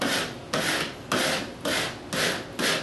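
A credit card scrapes over vinyl lettering pressed onto a wall, making six steady, even rubbing strokes in a regular back-and-forth rhythm, close and moderately loud.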